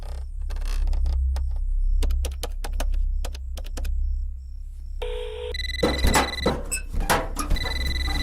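A telephone in a Malayalam movie scene rings in repeated electronic bursts, preceded by rapid keyboard-like clicking and a steady low hum, with no talk over it.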